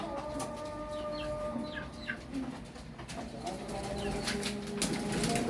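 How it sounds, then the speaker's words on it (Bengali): Quails and chickens on a farm cluck, coo and flap their wings close by, with layered bird calls over a constant rustling background. "আমি কোয়েল পাখিগুলো আজকে রোদে দিব খামার থেকে বের করে নিয়ে"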